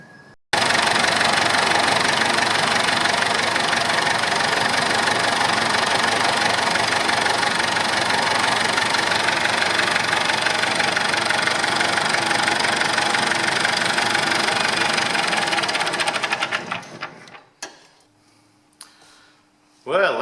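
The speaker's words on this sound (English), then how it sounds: "we'll start her up and just make sure everything's right, and we'll show you the tractor running" An old diesel tractor with a freshly resealed CAV injection pump runs loud and close, a steady knocking clatter for about seventeen seconds before it cuts off, leaving a faint hum and some handling noise.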